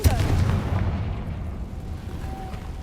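In the Hogwarts Legacy video game, a Confringo spell explodes with a sharp, booming blast at the very start, then a rumbling tail fades over the next couple of seconds.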